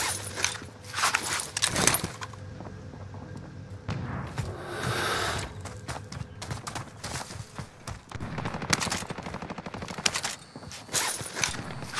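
Gunfire from a Call of Duty: Modern Warfare multiplayer match, with repeated sharp bursts of shots, some in rapid automatic strings, mixed with footsteps and thuds, varying between close and more distant.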